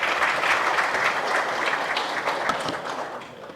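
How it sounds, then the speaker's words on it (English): Audience at a rental assistance scheme launch event in Ghana claps in steady, dense applause close to the microphone, tapering slightly toward the end. "I think a round of applause is in order."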